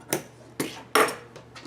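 Quilt fabric being trimmed: four crisp, separate snips or clicks at irregular intervals, close and fairly loud, with quiet between them.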